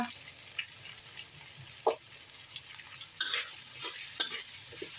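Fish nearly cooked through frying in a pan gives a faint, steady sizzle with a few scattered scrapes and clinks of stirring, quiet and close.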